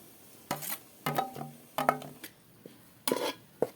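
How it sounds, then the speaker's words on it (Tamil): A ground herb mixture for a hair growth oil is stirred in a kadai: five separate scraping strokes of a metal spoon against the pan, close and fairly quiet, with short pauses between them and no voices. "எல்லா அரைத்து வைத்த கலவையையும் கடாயில் போட்டு கிளற வேண்டும்."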